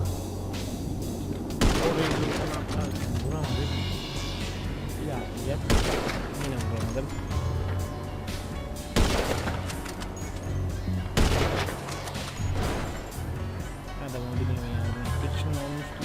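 Gunfire in Grand Theft Auto V, with several separate sharp, booming shots spaced a few seconds apart over a steady bed of game sound, while players talk.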